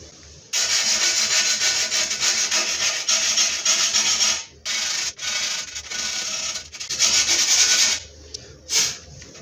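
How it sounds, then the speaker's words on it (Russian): Fine sandpaper rubs against a piece of glass in close, continuous, gritty strokes that carry on for several seconds. A few brief pauses and short final rubs come near the end. "теперь давайте чуть-чуть его зашкурим мелкой наждачкой"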